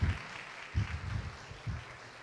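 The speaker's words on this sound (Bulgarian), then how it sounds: "моля да аплодисменти за него" Conference audience applauding a speaker in a hall, soft scattered clapping that comes in short bursts, with quiet murmuring between them.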